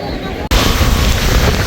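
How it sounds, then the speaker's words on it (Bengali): Strong storm wind sweeps over a river with fishing boats near flooded lowlands on Bhola Island. It starts with a lighter gust, then becomes a sudden loud, roaring buffet against the microphone, with voices partly heard. "প্রচুর বাতাস"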